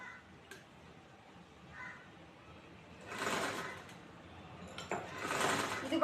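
A sewing machine stitches around the folded edge of a chudithar in two short whirring bursts, quiet and close, separated by pauses and faint clicks.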